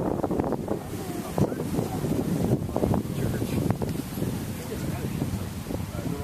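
Strong wind buffets the microphone in a constant roaring rush at an outdoor frisbee tournament final, with voices faintly mixed into the blustery noise.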